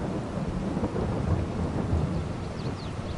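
Steady rain and rolling thunder in the farming video game Farming Simulator 22, a continuous dense wash of rainfall with low rumbling thunder swelling throughout, no voices.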